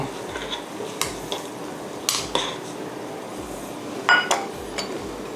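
Chicken tom yum soup with turmeric stirred in a pot: a spoon scrapes and clinks against the metal in a few sharp taps over a low simmering background, with no talking.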